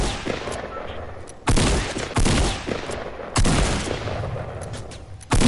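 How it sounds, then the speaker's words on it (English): Loud shotgun blasts fired in a video game, four heavy booms spaced unevenly about a second or two apart, each with a sharp onset and a lingering rumble between shots. "can I stand still when I'm shooting a shotgun?"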